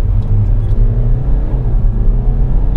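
A BMW F30 320d M Sport diesel saloon accelerates hard through a 0-100 km/h run from a stalled launch near 1500 rpm, its steady low engine drone and road rumble heard loud and continuous from inside the car without speech.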